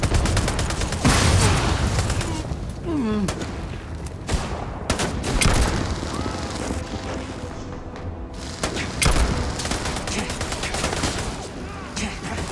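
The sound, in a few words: gunfire in the video game Starfield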